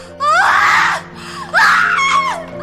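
A woman screams at the top of her lungs in two long, loud, shrill bursts with a brief gap between them, close and with no talk.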